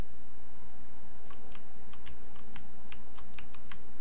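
Quick clicks from a computer mouse and keyboard while items are selected in Unreal Engine 4, a series of sharp, close taps spread unevenly over a faint electrical hum.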